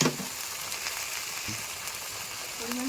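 Ground spice paste for biryani sizzles and fries steadily in a pan, a soft, even hiss with a few faint clinks and stirring touches, and no voice.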